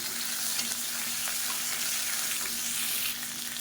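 Onion, garlic and ajwain leaves sauté in a pan, producing a steady, close, even sizzling hiss with no breaks.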